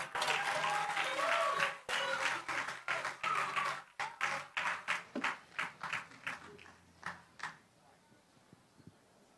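Audience at a Kwanzaa kinara lighting claps, a dense round of applause that thins into scattered, separate claps before fading out, with voices underneath.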